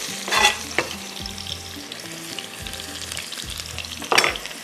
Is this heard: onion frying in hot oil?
yes